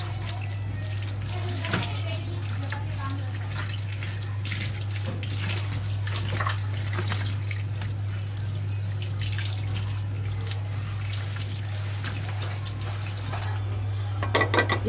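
Water runs from a tap in a kitchen sink as ingredients for a green beef karahi are washed, a steady close splashing under a low hum that continues throughout.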